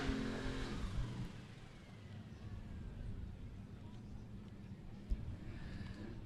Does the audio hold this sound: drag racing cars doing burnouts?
yes